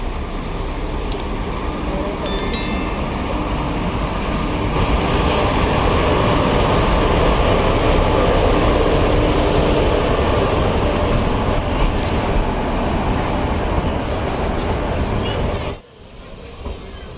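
A train pulls into a railway station near Hyderabad, giving a loud continuous rumble of rolling wagons, with brief high wheel squeals near the start, before the noise suddenly drops away at the end.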